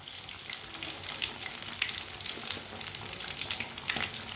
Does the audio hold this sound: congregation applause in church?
no